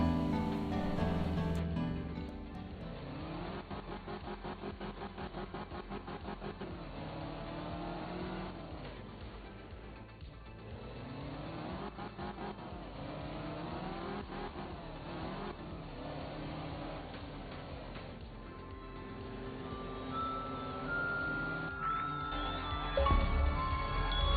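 The DAS 220 rally car engine in Art of Rally, revving up and down through gear changes in a continuous loud drone, with a brief tire squeal near the end.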